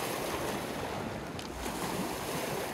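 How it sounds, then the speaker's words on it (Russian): Black Sea surf on an overcast May day at Sochi, rolling in as a steady, broadband wash of waves with wind rushing across the microphone, continuous with no voices. "Море немного взволновалось и приобрело мутность по сравнению со вчерашним днем."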